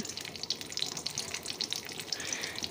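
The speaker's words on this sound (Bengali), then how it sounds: "এখন ফোড়নটা একটু ভেজে নিচ্ছি।" Whole spices fry in hot oil over a low gas flame: a bay leaf, cracked cardamom, slit green chilies and cumin seeds. The sizzle is a steady, crackling hiss with small pops, heard alone.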